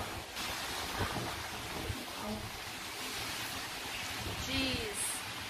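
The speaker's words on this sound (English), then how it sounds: "It's crazy wind." Strong wind and rain outdoors in the Philippines, a steady loud rushing roar of gusts and downpour filling the whole stretch, with voices faintly present underneath.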